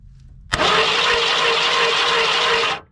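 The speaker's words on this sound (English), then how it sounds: "so we see starter hitting the flex plate, all good, but it sounds like the motor's not turning over" 1991 Ford F150 with the starter cranking against the flex plate while the engine fails to turn over: a sudden, loud, high whirring grind that kicks in abruptly, holds steady for about two seconds, then cuts off.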